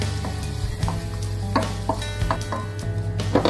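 A piece of butter sizzles in a pan on an induction hob set to medium, a steady close frying hiss with a low hum beneath and occasional stirring clinks, with no talk.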